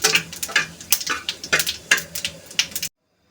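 Bay leaf, cardamom and whole cumin drop into hot oil for a Bengali cucumber ghonto, with a light sizzle under repeated sharp clinks and scrapes of a spoon against the pan, ending abruptly in silence.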